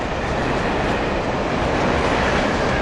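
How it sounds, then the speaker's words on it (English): Train at a train depot in the video game Alan Wake, a loud, dense, continuous rumbling roar with steady rail noise throughout and no voices. "Well, I think we found the train depot."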